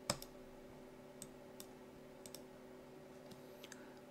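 Quiet computer mouse clicks scattered over a few seconds, single sharp clicks spaced irregularly against a low steady hum, no talking.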